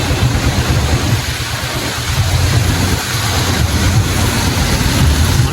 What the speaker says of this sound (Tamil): மழை பெய்து கொண்டே இருக்கு பாருங்க இப்போ